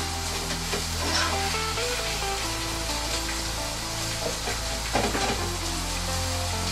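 Aubergine frying in a pan on high heat, a steady broadband sizzle that holds throughout, close and fairly loud, with a low musical hum beneath it and occasional stir knocks.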